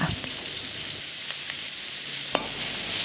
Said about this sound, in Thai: จากนั้นก็ใส่ในส่วนของ กระเทียมสับและหัวหอมสับนะคะ ใส่ลงไปผัดให้หอมค่ะ